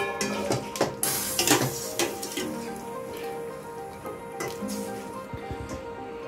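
Water drained from freshly boiled macaroni, splashing and trickling with clinks of a pot and bowl, quiet and irregular, louder bursts early on.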